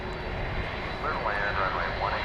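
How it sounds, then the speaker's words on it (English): A FedEx Boeing 757 coming in low to land at DFW Airport gives a steady, fairly loud engine rumble and whine that rises a little partway through, heard outdoors. "we're looking for a 757 kind of at a very low attack angle as it comes in for a landing"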